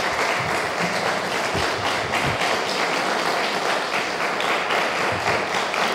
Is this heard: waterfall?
no